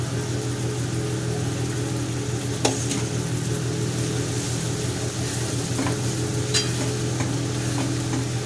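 Prawns sizzle steadily in hot masala and oil while a utensil stirs them, with occasional sharp scrapes against the pan over a continuous, even frying hiss.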